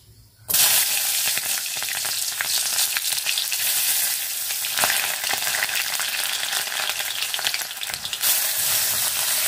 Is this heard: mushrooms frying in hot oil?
yes